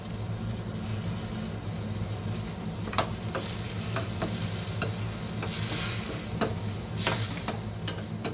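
Grated coconut being stirred into a boiling jaggery mixture in a pan for sweet laddus: a steady bubbling sizzle runs throughout, with scattered sharp scrapes and taps of the spoon against the pan, no voices.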